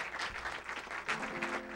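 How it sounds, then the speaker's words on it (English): A church congregation claps in applause, a brief, faint patter of many hands from across the room, with no voices over it. "If we could give them an applause."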